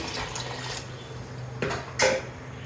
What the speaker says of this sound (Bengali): তারপর দিয়ে দেব পানি